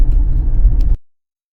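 A pickup truck driving along a farm track, its low engine rumble and road noise steady and close for about a second before cutting off abruptly into silence.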